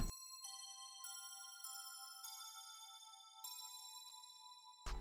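Bright synthesized bell tones ring out alone, a series of struck notes with shimmering overtones and long sustain, soloed from a hyperpop remix.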